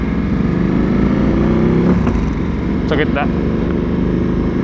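A Ducati Diavel 1260 motorcycle idling loudly and steadily after a cold start on a new Yuasa battery, its engine rumble continuous and close, with people talking over it.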